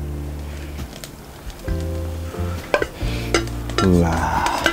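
Warmed mushrooms go into a pan with canned roast beef and gravy for a stroganoff, and a utensil scrapes and clinks against the pan. Low droning hum sits beneath, and the wet stirring and sizzle grow louder toward the end.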